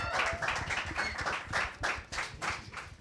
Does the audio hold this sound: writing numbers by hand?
no